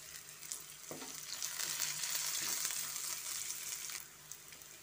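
Curry leaves crackle and sizzle in hot oil in a pan of masala dosa filling, a steady loud fry swelling after a brief stir and easing off near the end.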